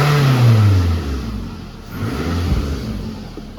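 A car engine runs inside a garage after a flux-core welding repair, a loud steady idle with a low rumble that swells briefly as if revved, echoing close by with no talk.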